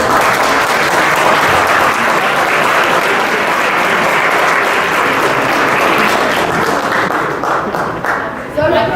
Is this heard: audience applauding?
yes